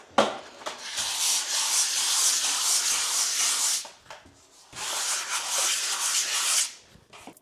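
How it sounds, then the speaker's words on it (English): Sandpaper of 120 grit from Merkur sands a plasterboard repair by hand in two long, steady scratchy passes, close and fairly loud, with a short pause between them. "I am using 120 grit, and I like the sandpaper from Merkur"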